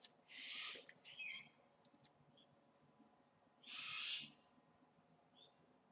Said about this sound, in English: They're screaming extremely loudly. It's a cockatoo, actually.